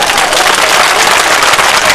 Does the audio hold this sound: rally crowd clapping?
yes